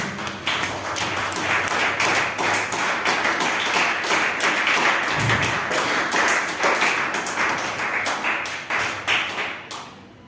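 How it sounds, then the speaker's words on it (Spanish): A church congregation applauds steadily and loudly for the whole stretch, with dense overlapping hand claps that taper off slightly at the very end. "Den una ofrenda de palmas a Dios"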